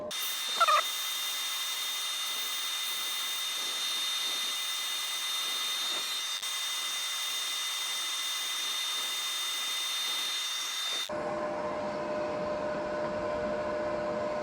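Sanding wood by hand with a piece of 80 grit sandpaper while shaping a monkey puzzle urn: a steady, continuous abrasive rasp running for about eleven seconds, then a sudden drop to a quieter, different texture near the end.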